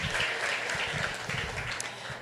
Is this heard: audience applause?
yes